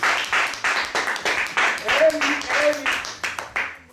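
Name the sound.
audience applauding to welcome a visiting couple from France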